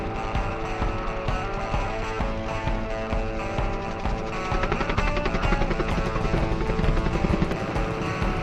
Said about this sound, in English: that's why there's a helicopter in the air today.